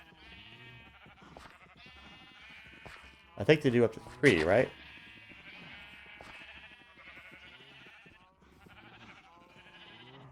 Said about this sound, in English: How'd that sheep get over there?